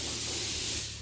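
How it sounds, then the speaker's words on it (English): Spray paint hisses steadily onto a Honda RSX engine bay, one close continuous burst that tails off slightly at the end. "he's about to spray the engine bay"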